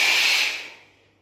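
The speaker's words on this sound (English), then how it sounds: "And I just exhale." A single slow exhale during yoga breathing, a breathy hiss that is loud at first and then fades out over about a second, close to the microphone with no talking.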